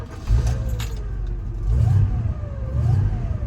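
An Oldsmobile Cutlass Supreme V8 rumbles from inside the car while driving, a deep, steady engine note that swells with short surges of revving over constant road noise.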